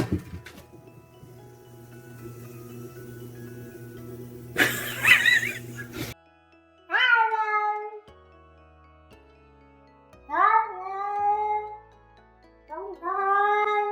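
A kitten meows loudly and insistently in three or four drawn-out, rising cries near the microphone, after a stretch of low background hum and a brief burst of rustling noise.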